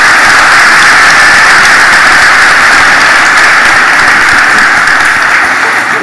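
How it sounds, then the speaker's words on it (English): Continuous, loud applause from an audience at a school awards live stream in Dubai, a steady wash of clapping with no break. "I think let's begin with another round of applause."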